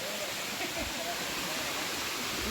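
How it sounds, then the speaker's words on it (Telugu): Steady rushing roar of a waterfall fills the whole clip, loud and continuous, with faint voices murmuring underneath, at Shanigaram or Medipally Waterfalls. "వాటర్ ఫాల్స్ ఇవే"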